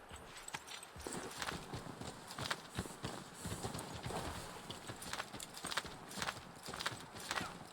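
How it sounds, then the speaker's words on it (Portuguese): Hooves clip-clop in a fast, uneven rhythm as a horse gallops in Assassin's Creed 3, close and fairly loud, with scattered thumps and faint background game sounds. "Cavalo."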